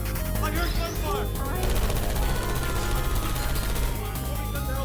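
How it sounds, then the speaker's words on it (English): Gunfire crackles in dense, continuous bursts throughout a scene in the video game Portal 2, a loud, busy wash of shots with no clear gaps. "I heard gunfire!"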